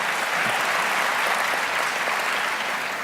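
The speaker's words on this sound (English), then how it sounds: "we can clap for the old Bowen Homes coming back" Audience applause during a mayor's state of the city address, a thick, even wash of clapping from a large crowd that continues unbroken throughout.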